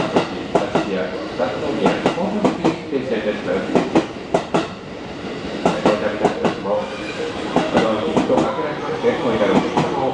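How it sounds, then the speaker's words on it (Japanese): A JR 223 series Special Rapid train bound for Himeji rolls into Kyoto Station with rhythmic clacking wheels and rumbling carriages, loud and close, with voices, station noise and an arrival announcement mixed in. "駅6分発新快速列車姫路行きの到着です"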